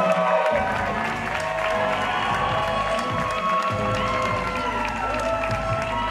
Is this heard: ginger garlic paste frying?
no